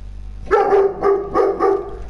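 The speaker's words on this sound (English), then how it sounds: "Oh my god, this dog." A dog barks close by in four loud, separate woofs with short gaps between them.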